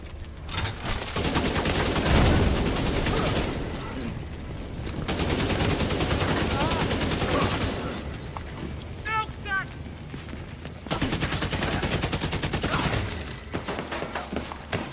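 Bursts of automatic gunfire in the video game Division 2, rapid loud volleys in several stretches with brief pauses between, layered with game effects and someone talking over the shooting.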